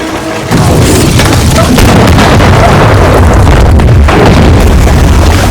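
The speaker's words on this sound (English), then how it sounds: "And now they're using mortars, which is the first time I've seen that." Mortar explosions in the war film The Unknown Soldier, set in Soviet Karelia, come as a dense, loud barrage of deep booms and rumbling blasts that roll on continuously without pause.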